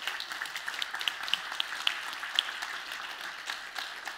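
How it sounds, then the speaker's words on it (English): Applause from an audience after a startup founder's talk, a steady wash of many hands clapping at moderate distance, with a few sharper claps standing out before it gradually thins. "First of all, a big applause."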